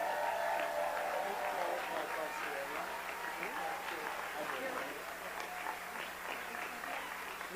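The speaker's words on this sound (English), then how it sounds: "could all of our retirees please stand up for one final round of applause?" A school board meeting audience claps for standing retirees, steady dense applause with crowd murmur that continues throughout, fairly faint and slightly distant.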